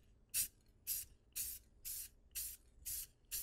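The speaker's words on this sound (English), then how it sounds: "you want to spray kind of in spurts" A can of clear coat is sprayed onto a car headlight in seven short, even bursts, each a crisp close hiss separated by brief pauses, quiet overall and with no talking.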